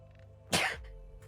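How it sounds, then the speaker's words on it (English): A single sneeze lands in a short burst near the middle, close and fairly loud against a quiet background hum, with no talking around it. "Oh Lord, yeah, I had a sneeze"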